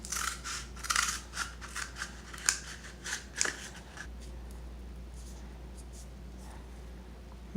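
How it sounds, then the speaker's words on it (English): Scissors snip through a cardboard toilet paper roll, cutting it into slices with a quick run of close, crisp cuts that stop after about four seconds, leaving quiet room tone. "I'm going to mix it with this toilet paper roll, which I'm going to cut into slices."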